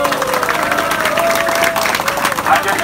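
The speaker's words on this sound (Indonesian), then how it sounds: "Tepuk tangan untuk kehebatan kawan-kawan." Protesters clap outside the DPRD Bangkalan building at a humanitarian demonstration, producing loud, rough outdoor applause mixed with crowd murmur, while a steady amplified tone runs through it.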